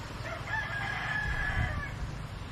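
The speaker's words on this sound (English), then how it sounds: "you got to have the roosters in the background" A rooster crows once in a long, drawn-out call from some distance away at a beach resort in the Philippines, ringing over a low outdoor background hum.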